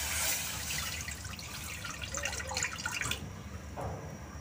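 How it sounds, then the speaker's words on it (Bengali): About 250 grams of water poured into a pan on the stove, a close, splashing gush lasting around three seconds before it stops and the pan settles. "250 গ্রাম পানি দিয়ে দিচ্ছি।"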